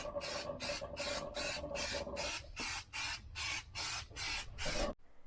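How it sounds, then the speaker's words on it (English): About ten rapid hissing spray bursts of insect repellent onto clothes in a steady rhythm, close up, each a short sharp pulse, ending abruptly. "We had to spray our clothes and let them dry for about 2 hours"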